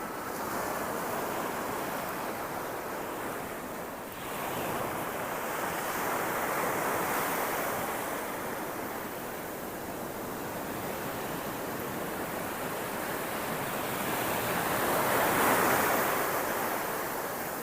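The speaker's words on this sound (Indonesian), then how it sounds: "gelombangnya agak besar" Ocean waves break on a beach at Lede village, a steady, full roar of surf that swells and eases in long surges, with wind noise rushing across the microphone and no talk.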